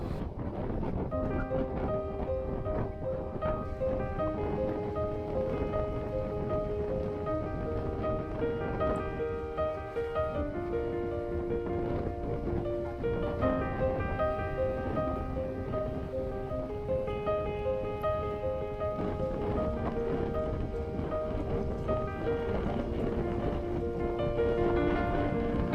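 A Catalina Capri 26 sailboat motoring into a southwesterly wind through waves, with a steady engine drone and tonal hum under constant wind rush and water noise throughout.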